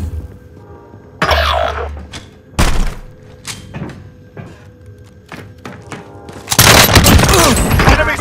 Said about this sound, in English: I'm gonna shoot you then.